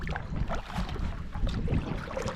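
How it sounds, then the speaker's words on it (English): A kayak paddle strokes through the water of Round Lake while heading into the wind, giving a few soft splashes and swishes under gusty wind rumble, with no voices. "Gonna use the kayak paddle, mostly because I can go a little faster into the wind."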